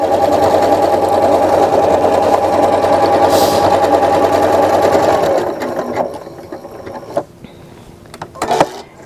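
A sewing machine stitches a decorative pattern onto galloon trim in a loud, close, continuous buzzing run. After about five seconds it winds down and stops, followed by a few sharp mechanical clicks and handling noises.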